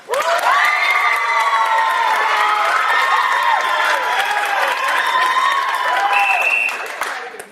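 A live audience claps, cheers and shouts in a loud sustained burst, many high excited voices whooping together before the noise tapers off at the end.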